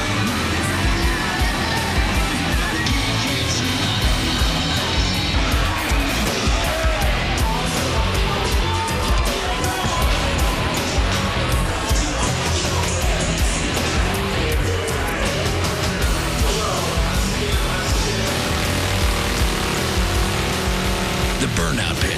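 A crowd cheers around the burnout pit at the Full Throttle Saloon, a loud, dense roar that never lets up and mixes with revving car engines and squealing tires.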